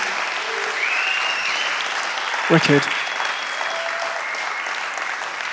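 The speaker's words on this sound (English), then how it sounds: "give Michaela and Andrew and all the MTF team a massive round of applause, please?" Audience applause at a live music-technology event in London, a dense steady wash of clapping filling the room, with a brief voiced exclamation rising over it midway.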